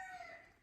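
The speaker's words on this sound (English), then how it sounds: "that's a rooster crowing." A rooster named Razzle Dazzle crows outdoors, a single brief, faint, distant call with a descending tone.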